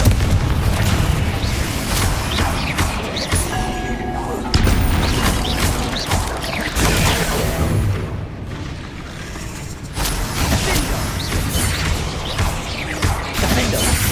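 Confringo blasting spells explode in Hogwarts Legacy amid dense game combat, heavy booming bursts layered over music and effects with a voice calling out spells.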